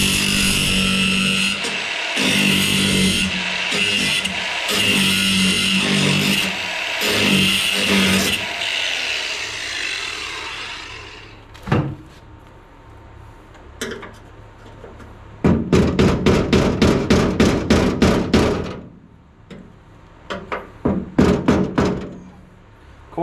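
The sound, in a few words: grinding bolt heads down, then knocking them off with screwdriver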